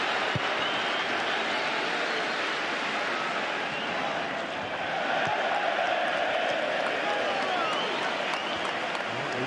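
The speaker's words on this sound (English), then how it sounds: "We've got a bit to applaud the Liverpool boss" Steady applause and crowd noise fill a football stadium at the FA Community Shield between Liverpool and Manchester City, a broad continuous wash of clapping holding at an even level throughout.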